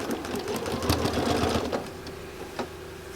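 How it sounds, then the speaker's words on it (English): A sewing machine stitching quilt pieces runs in a fast, even whirring rattle for under two seconds, then stops, followed by a quiet pause and a single small click. "I'm going to try to sew this starting here"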